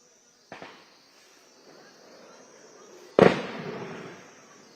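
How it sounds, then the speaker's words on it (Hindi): Gunfire during an army encounter operation at Kokernag in Anantnag: a single sharp crack early on, then a louder, heavier shot echoing and fading, heard from a distance amid a quiet outdoor background. "आप आवाज सुने, ये देखिए फायरिंग की आवाज।"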